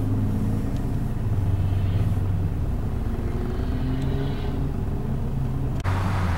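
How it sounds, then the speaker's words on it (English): Steady road traffic at a city intersection near 72nd and Federal, with cars rumbling past close by in a continuous low drone, engines swelling and easing, no voices. "There's a lot of traffic here."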